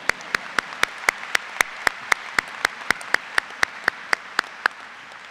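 Evenly spaced, sharp claps ring out in a steady rhythm at a medical school diploma day ceremony, about four per second, crisp and fairly close with a light roomy tail.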